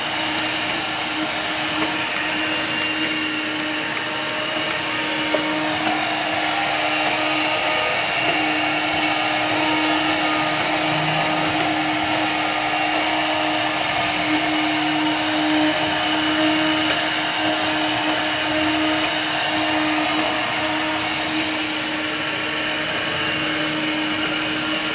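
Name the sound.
Cop Rose window cleaning robot running on window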